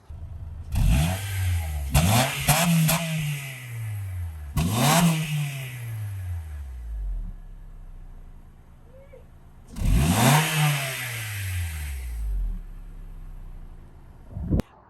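A Honda 3.0 liter V6 car engine revs hard several times at close range, each rev climbing sharply and then falling back to a low idle rumble between bursts.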